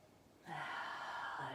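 A single deep, drawn-out inhale during a yoga stretch, a soft, airy breath close to the microphone that lasts about a second.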